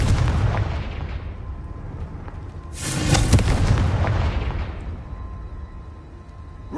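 Confringo fire spell explosion in the Hogwarts Legacy video game: a heavy, booming blast that swells loudly and then rumbles and fades over several seconds, with no talking.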